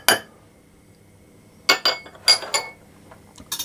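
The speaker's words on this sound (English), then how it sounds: "I just give those a bit of a mix around" A utensil clinks against a bowl as sugar and corn flour are stirred together, a few sharp taps in quick clusters separated by quiet pauses.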